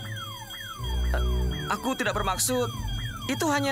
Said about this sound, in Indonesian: Berisik sekali alarm itu!